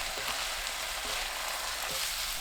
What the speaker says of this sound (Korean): 다진 마늘 반큰술, 스팸, 미림 2큰술 넣고 중불로 1분 30초에서 2분 볶습니다